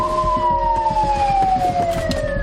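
An ambulance siren wails, sweeping slowly downward in pitch over the rumble of the moving ambulance carrying a fallen construction worker in Korea, loud and close.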